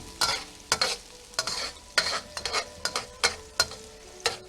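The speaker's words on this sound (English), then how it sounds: "Cook this until the onions start to just turn translucent until you get soft" Onions fry in a pan for chicken fried rice, a low sizzle punctuated by rhythmic, close spatula strokes scraping and tossing about every half second.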